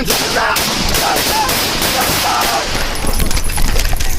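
Rapid volley of gunshots in a police dashcam shootout, loud, dense and continuous across the whole stretch, with broadband cracks layered over one another and no clear speech.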